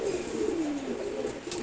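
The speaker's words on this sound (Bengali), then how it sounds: "আমার খুবই প্রিয় লাল চুলিয়া কবুতর" A red Chulia pigeon, a male, gives a single low falling coo, close and clear against quiet background noise.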